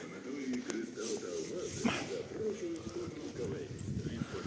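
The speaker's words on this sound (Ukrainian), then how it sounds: "Голуби." Pigeons coo softly in repeated low, throaty phrases against a faint background hum, with one brief sharper sound in the middle, outdoors in Truskavets.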